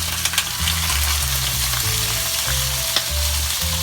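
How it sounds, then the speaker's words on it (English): A ribeye steak pan seared over high heat hisses in a steady, loud sizzle that runs unbroken, with a few sharp pops and spits rising out of the frying. "we're gonna pan sear this bitch for about a minute on either side"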